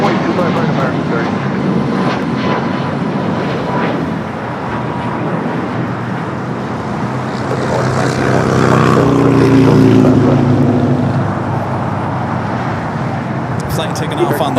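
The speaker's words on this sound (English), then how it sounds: "Flight taking off on the north side" A Hawaiian Airlines Airbus A330 takes off from the north side of LAX bound for Honolulu, its broad jet roar swelling to a peak midway and easing off, with a voice talking over it.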